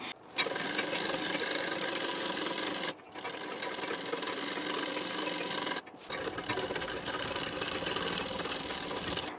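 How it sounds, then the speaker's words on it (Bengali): An electric sewing machine stitches a waistband onto a saree petticoat, its steady, dense whirring running in three long bursts with brief pauses between, close and loud with no voices. "এখান থেকে সেলাইটি দিয়ে নিতে হবে"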